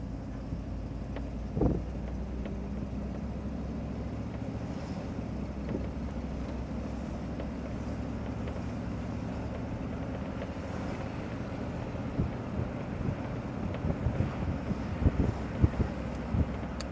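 A 1970 Cadillac DeVille convertible drives off from idle and cruises at around 35 mph, its steady low engine and road rumble joined by wind buffeting, with a few sharper bumps and knocks near the end.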